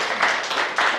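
A church congregation at a Sunday worship service breaks into a short burst of applause, with dense, steady clapping throughout.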